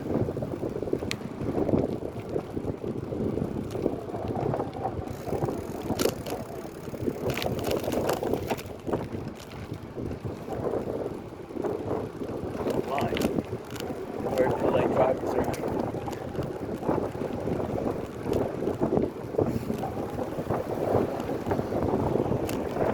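Wind buffets the microphone while riding a bicycle along the Sanibel Island beach path in Florida, a constant rushing roar with gusty swells and faint rattles.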